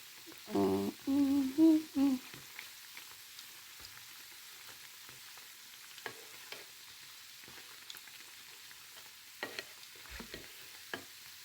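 Nigerian buns dough frying in hot oil: a faint, steady sizzle with scattered pops and stirring clicks, after a few brief tonal bursts at the start.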